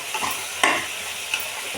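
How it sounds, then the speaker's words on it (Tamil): Sizzling in a hot frying pan while a utensil stirs and scrapes through spices, with a couple of sharper scrapes. "இதை எல்லாத்தையும் ஒரு தடவை நல்லா கலந்து விட்டுக்கலாம்."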